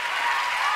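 Studio audience applause on the Italian talent show Amici, a brief, even wash of clapping heard alone.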